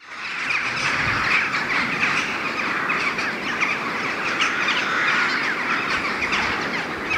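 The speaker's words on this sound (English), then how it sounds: "A murder of crows." A flock of crows calls near a cathedral built on the site of an old monastery, with harsh caws and chatter going on over steady wind or outdoor noise. No one speaks.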